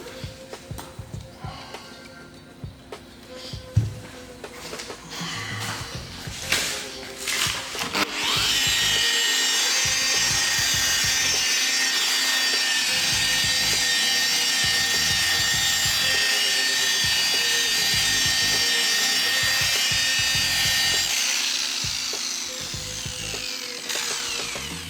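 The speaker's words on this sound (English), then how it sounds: "So that's the first polishing stage." A machine polisher works the paint of a Ford BOSS XC during first-stage polishing, starting around eight seconds as a loud, steady broadband whir that holds for over ten seconds before easing off near the end.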